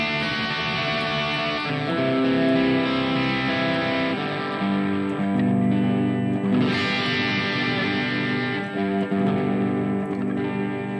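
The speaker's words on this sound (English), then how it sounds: "So this is a pure Plexi amp." An electric guitar, a Fusion 3 HSH, plays through a Harley Benton DNAfx Git Pro set to a pure Plexi amp model with lightly driven, ringing chords and sustained notes, loud and continuous with no voices.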